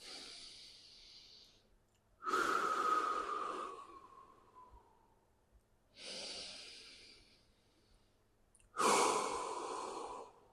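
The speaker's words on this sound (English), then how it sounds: "This time we're gonna take a couple of breaths while we're leaning back." Slow, deep breaths taken while leaning back in a yoga pose: four long airy inhales and exhales, separated by quiet pauses, close and clear.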